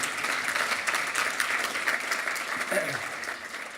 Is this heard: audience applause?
yes